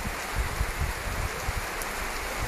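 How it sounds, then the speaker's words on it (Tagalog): Rain falling steadily at a shipyard, a dense hiss of drops pattering on hard surfaces, constant and moderately loud with no voices. "nasa shipyard kami din umulan."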